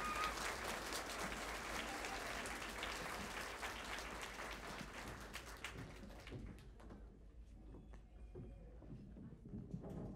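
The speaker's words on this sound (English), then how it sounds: "Let's give them a round of applause" Audience applause at a school kindergarten graduation ceremony welcoming students onto the stage, a steady dense clapping that fades and thins out toward the end into scattered claps.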